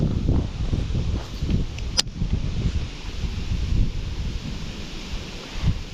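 Wind gusts across the French Broad River near Seven Islands State Park while someone is out kayak fishing, making a loud, steady, rumbling buffet on the microphone that lasts the whole time, with no voices.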